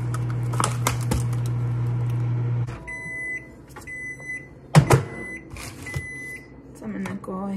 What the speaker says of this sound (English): gonna put our chocolate in the microwave and start melting it